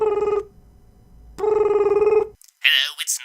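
A telephone rings close and loud in two long, buzzing bursts with a pause between, followed by a short voice.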